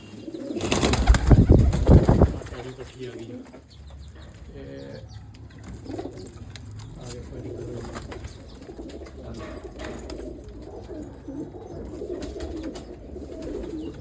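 Pigeons at a Tarn Taran pigeon club coo in a soft, steady murmur, with a loud burst of flapping wings near the start before the low cooing settles in.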